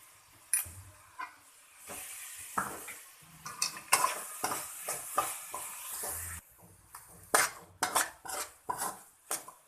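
Roasted cashews, almonds and dry grapes tumble into a pan of carrot halwa, with repeated clinks and scrapes of a spoon against the pan, short sharp knocks scattered over soft stirring, close and fairly quiet.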